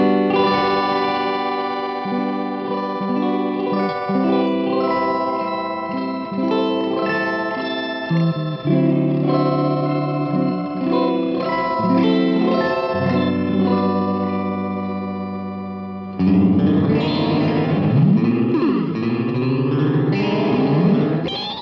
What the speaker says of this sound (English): it's a pitch shifting delay pedal which can lead to some insane sounds